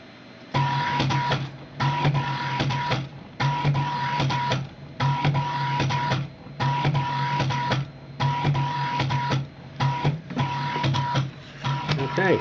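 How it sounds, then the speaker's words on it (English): A CNC coil winder lays copper wire onto a Rodin Starship coil add-on. Its stepper motor whirs in regular bursts about a second long with short pauses between them, each burst carrying a steady whining tone, loud and close. "If I shut up, you'll probably hear the y-axis move back when it finishes a layer"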